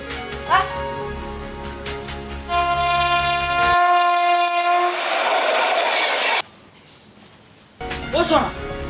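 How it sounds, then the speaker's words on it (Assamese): A train rumbles close by and sounds a long, loud horn blast for a few seconds, then its clatter fades to quiet before brief voices return. "আৰু এখন ৰেল আহিলে"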